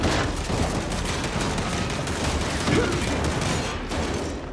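Sustained gunfire in the video game Gears 5, dense rattling automatic shots running continuously at a loud, even level with mechanical clatter mixed in.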